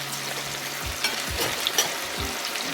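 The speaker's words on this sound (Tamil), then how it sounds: "கொஞ்சம் அப்படி எல்லாத்தையும் பொரிச்சு எடுப்போம்" Chicken pieces for Sri Lankan devilled chicken deep frying in hot oil, a steady close sizzle with a few brief stirring knocks and bubbling bursts, no voices.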